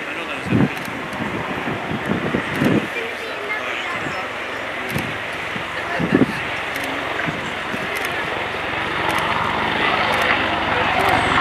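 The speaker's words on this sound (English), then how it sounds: "Gunship 2 now pulls up and turns away from the formation and will fly across in front of you" An Apache AH1 attack helicopter flies past at the RIAT 2015 air display, a sustained rotor and engine roar mixed with wind buffeting on the microphone, beneath a public-address commentator's voice.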